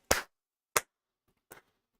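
One person claps three times, sharp close slaps spaced evenly with the last one softer, in an otherwise quiet room.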